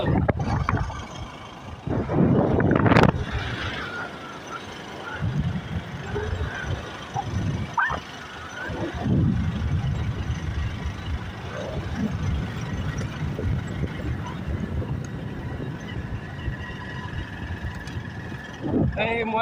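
Tractor driving along a concrete village road, its engine rumbling steadily at moderate distance with bumps and rattles, while people talk over it throughout.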